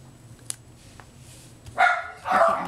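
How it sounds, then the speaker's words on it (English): A miniature schnauzer barks indoors at another dog passing out front, giving two sharp, fairly close barks in quick succession after a few quiet, faint clicks. "there goes my other miniature schnauzer. Somebody's out front with their dog"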